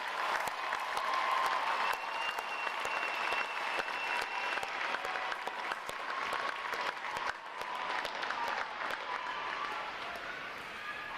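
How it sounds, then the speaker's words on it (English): Sustained applause from a large crowd at a U.S. Navy boot camp graduation ceremony honoring the support staff, dense steady clapping from many hands that carries on for over ten seconds with little change. "Please join me in giving them a round of applause for their outstanding performance."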